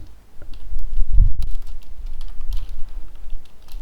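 Code is typed on a computer keyboard, a close, quick run of soft key taps and clicks with uneven rhythm and a heavier thump partway through.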